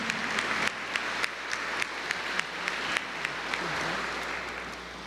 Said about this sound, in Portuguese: uma salva de palmas bem forte a ela, Mãe de Deus e nossa Mãe